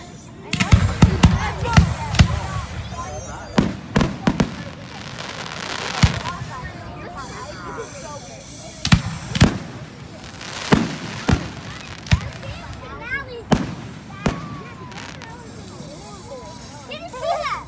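Fireworks at a middle school display in 2018 burst in loud sharp bangs and crackles, irregular and spaced through the clip, with a crowd talking and murmuring close by between the blasts.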